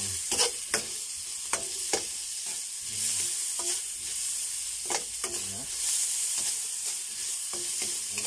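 Onions sizzle steadily in a hot pan while a utensil scrapes and stirs them in repeated close, sharp strokes over the continuous frying hiss.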